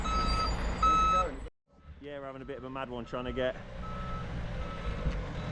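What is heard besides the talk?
van reversing beeps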